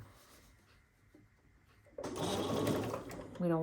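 Partway through, a sewing machine starts stitching quilt pieces, a close, steady whirring run that stops briefly and then resumes, with a voice heard under it.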